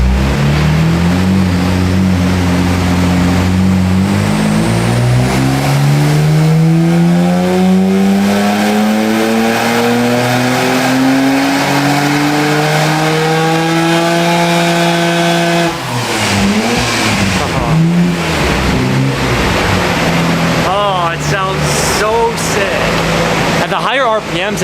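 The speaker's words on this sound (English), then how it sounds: "we get to watch Uchinaga-san do a little bit of tuning on this R32" Nissan R32 GTR engine being tuned, revving in long rising sweeps that climb steadily to a high pitch, then drop back into choppy, uneven revs, loud and close.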